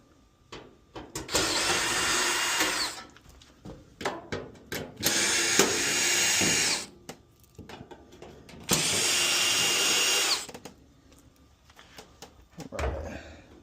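Power drill backing screws out of an LG dryer panel in three sustained whirring runs, each a few seconds long, with clicks and clatter from handling in between, close-up.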